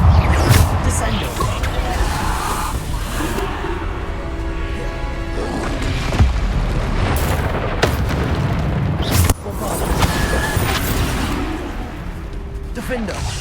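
Spell impacts burst in Hogwarts Legacy combat, a dense run of booming crashes and explosive hits layered over game music and effects, loud and continuous with sharp peaks.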